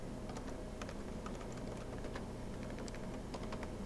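A computer keyboard clacks with rapid, irregular keystrokes as a memo is typed, close and continuous over a steady background hum.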